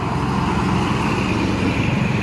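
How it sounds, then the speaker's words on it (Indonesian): A Fuso tronton heavy truck drives by on an Indonesian road, its engine and tyres producing a thick, continuous roar that stays loud and near, with other traffic blended in. "Truk tronton Fuso."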